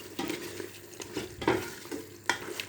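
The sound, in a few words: mutton frying and being stirred in oil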